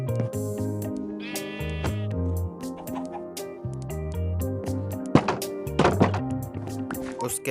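Goats and sheep bleat repeatedly in a Minecraft farm, the calls bright and close amid game sounds and thuds, with a voice talking underneath.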